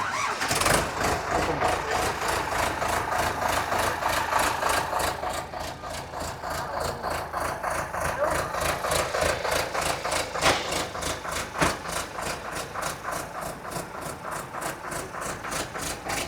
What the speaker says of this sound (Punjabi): ਤੇ ਲੋ ਜੀ ਬਾਈ ਇੰਦੋ ਫਾਰਮ ਚੱਲਿਆ ਜੀ ਆਪਣਾ 30 60